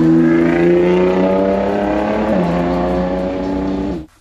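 A Nissan GT-R engine revs hard at Goodwood, a loud close roar rising in pitch then dipping briefly before climbing again and cutting off sharply at the end.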